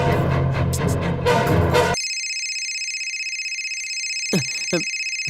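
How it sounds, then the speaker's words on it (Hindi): A mobile phone rings in a film scene. A burst of busy background sound gives way to a loud electronic ringtone of sustained bright tones, with a couple of brief swooping notes near the end. "सैम का फोन है। इसका फोन कहाँ से आ गया?"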